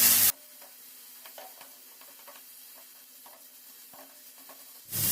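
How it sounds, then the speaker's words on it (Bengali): Spinach (gima shak) with salt and turmeric is stirred in a pan over very low gas, giving a faint soft sizzle with scattered light scrapes and taps, framed by louder bursts at the start and end. "এবার এটাকে ভালো করে নেড়ে চেড়ে মিশিয়ে নেব"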